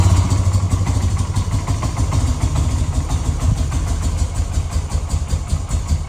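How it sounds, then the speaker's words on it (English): A Yamaha Bear Tracker ATV engine runs steadily and loudly nearby after being jump-started past a bad solenoid, with a slightly rough carburetor idle throbbing continuously and no talk. "I might have to adjust the carb a little bit, that's what it sounds like, but she's running, guys."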